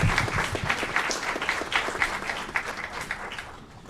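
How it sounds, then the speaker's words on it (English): Scattered applause breaks out at a city council meeting, a modest group clapping in uneven bursts, moderately quiet and close, continuing without talk over it. "Let's give them a round of applause for everything they do."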